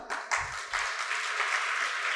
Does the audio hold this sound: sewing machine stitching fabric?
no